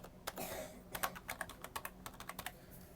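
Typing on a computer keyboard, a quick irregular run of light key clicks over about three seconds, close and faint with no talk over it.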